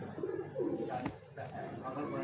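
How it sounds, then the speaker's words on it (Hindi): A prized female pigeon coos in soft, low, rolling bursts close by, while people talk over it. "कबूतर खुद तो बताता है"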